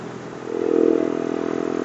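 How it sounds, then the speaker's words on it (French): A small Yamasaki YM50 moped engine buzzes steadily and rises slightly as it gently accelerates, a close, even drone with no voices. "On accélère un petit peu. Comme ça, on avance sans forcer sur le moteur."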